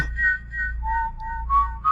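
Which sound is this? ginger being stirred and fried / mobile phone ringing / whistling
whistling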